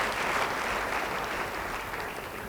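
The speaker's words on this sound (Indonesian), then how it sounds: "Yang setuju beri tepuk tangan bagi dia." A church congregation gives a short burst of dense, even applause that fills the room and fades slightly toward the end.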